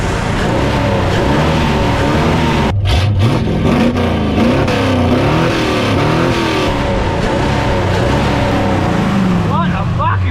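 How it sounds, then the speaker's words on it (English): A dirty old 1978-ish Ford F-350 V8 revs up and down in repeated swelling sweeps, close and loud, with someone talking over it. "you don't beat the sound of a dirty old fucking Ferd V8 singing"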